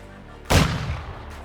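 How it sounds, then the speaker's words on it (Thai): A single loud, sharp blast of exploding rounds passing overhead bursts in suddenly, then trails off into a rumbling, decaying roar over a second. "มันกระสุนระเบิดแน่เลยอ่ะ"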